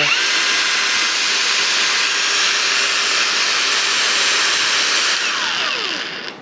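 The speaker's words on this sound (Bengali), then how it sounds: "সাউন্ডটা আশা করি খেয়াল করছেন, এটা কিন্তু ব্রাশলেস মোটর" Cordless brushless motor of a hammer drill, drill and angle grinder combo set spinning at high speed near 10,000 rpm, a loud, steady high-pitched whine held for several seconds before starting to wind down at the end.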